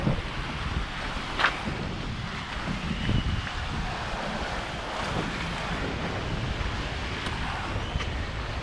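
Surf washes onto a small, quiet beach on Koh Larn Island, a steady wash of waves mixed with gusting wind noise on the microphone, continuous and fairly close, with no voices.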